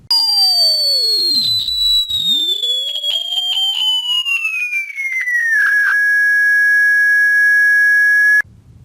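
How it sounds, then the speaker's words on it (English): Synthetic pure tone sweeping past the listener, its pitch gliding steadily downward as it passes before settling on a steady lower note, then cutting off abruptly; loud, clean and alone. "This frequency change is known as the Doppler effect."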